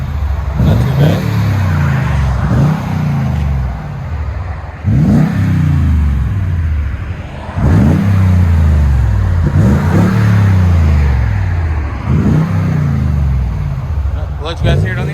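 A 2016 Toyota Tundra 5.7L V8 with a TRD true-dual cat-back exhaust revs repeatedly in close, loud, deep bursts with short pauses between, heard from outside.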